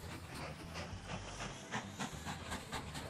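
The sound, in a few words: steam train moving along a track in the video game Mashinky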